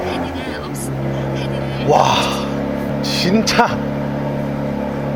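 A Porsche Cayenne Coupe Platinum Edition on a cold start gives a deep, steady exhaust rumble with a couple of brief swells. A man exclaims briefly over the engine noise.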